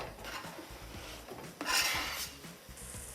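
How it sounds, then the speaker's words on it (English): Potatoes going into a pot for a family recipe: soft scrapes, rubs and light clatter of cookware, with a brief louder tumble near the middle, fairly quiet and with no talk. "Next, you're gonna add the potatoes in."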